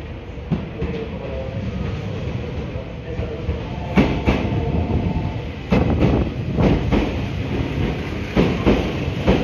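A train pulls into a station at Kanayama with steady rumbling and clattering wheels over rail joints, a few sharp knocks as cars pass, heard fairly close without talk.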